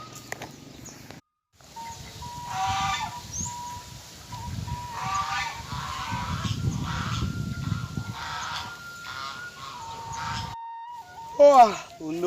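Ducks or geese honk and quack in a few scattered, nasal calls, with a louder burst near the end, while people talk over them throughout.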